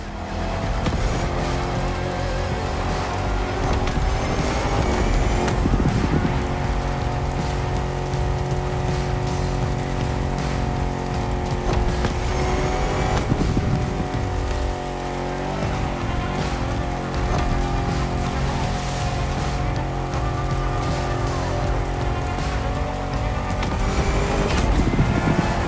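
A Jeep Rubicon on huge 33-inch tires drives an off-road jungle race in The Crew Motorfest. Its engine drones loud and steady for the whole stretch, with surges in revs and rough terrain noise, and no one speaks.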